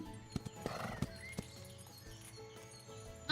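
A horse in the video game The Ranch of Rivershine jumps an obstacle, with a few sharp hoof thuds and clip-clops up close and a brief whinny around the landing, over steady background game sound.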